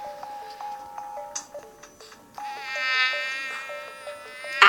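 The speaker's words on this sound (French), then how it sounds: "Ah, moustique!" A thin, high-pitched mosquito whine drifts close and away, rising and falling in pitch, loud near the ear.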